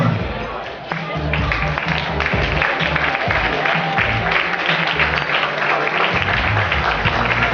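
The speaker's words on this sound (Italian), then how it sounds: "facciamo un applauso" Crowd applause at a Miss and Mister beauty pageant in Friuli continues steadily under loud music with a heavy beat, while a voice talks over it at times.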